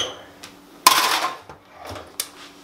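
A tray of sweet potato fries slid into an oven in a home kitchen: a sharp metallic clank followed by a brief scraping rattle, then a softer knock and a second clink.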